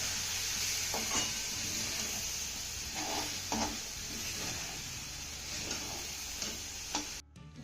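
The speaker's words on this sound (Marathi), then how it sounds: "याला तळापासून एकदा हलवून घ्यायचं आहे" A besan gravy stirred from the bottom of a pan on the stove: soft scraping and stirring strokes over a quiet sizzling hiss, fairly faint and close, ending in a brief clatter.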